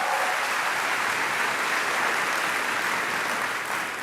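A large keynote audience at Workday Rising applauds after a dance crew's performance, a loud, dense, unbroken wash of clapping that fades slightly at the end.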